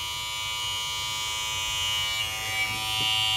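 A Moozie 1901 hair clipper rated at 6,500 RPM runs with a steady electric buzz, close and continuous, with a few faint handling bumps near the end and no talk.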